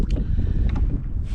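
Wind blowing outdoors at a Georgian Bay park on a cold day, rumbling and buffeting the microphone in low gusts with no talk.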